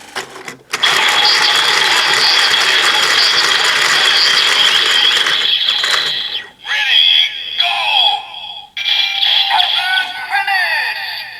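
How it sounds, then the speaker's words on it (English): A toy crank on a DX Full Full RabbitTank Bottle from Kamen Rider Build turns with a fast, continuous ratcheting clatter, loud and close, then gives way to shorter electronic toy sounds and chirps. "Next we can turn the crank again for the RabbitRabbit finish."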